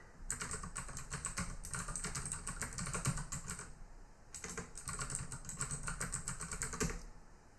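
Rapid keystrokes on a computer keyboard as a password is typed, a steady run of close clicks and taps with a brief pause near the middle before the typing resumes.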